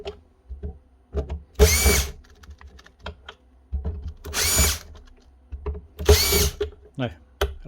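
A power drill backs socket head screws out of the front of a Makita DMR104 site radio, with three loud whirring bursts of a second or so each, separated by clicks, taps and handling noises up close.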